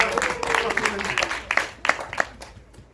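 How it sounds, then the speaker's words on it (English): Audience applause at a conference session in Nairobi, a steady wash of many hands clapping across the room, fairly close and continuous, with some brighter individual claps standing out toward the end. "please give them a round of applause"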